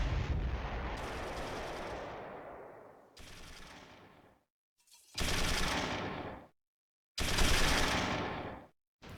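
Heavy mortar fire pounds a position in the World War II tactics game Close Combat 3, loud roaring barrages that come in separate bursts, each cutting off abruptly into silence before the next.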